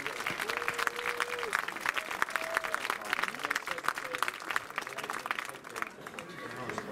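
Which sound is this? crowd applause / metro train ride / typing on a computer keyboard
crowd applause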